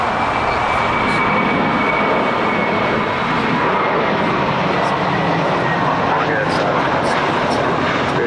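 An airliner takes off from runway 25 right at Los Angeles International Airport, its engines roaring loud and broad throughout as a steady, sustained rumble, with radio chatter from air traffic control underneath.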